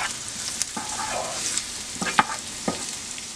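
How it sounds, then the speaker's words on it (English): Beef and vegetables stir-fry in a hot pan for pepper steak, with a continuous sizzle broken by scraping and clattering strokes of a spatula. "Start frying it together."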